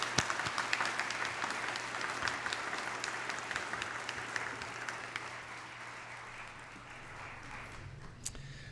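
Sustained applause from a convocation audience for graduating Bachelor of Science honors scholars, an even wash of many clapping hands at moderate distance with a low hum beneath, lasting nearly nine seconds.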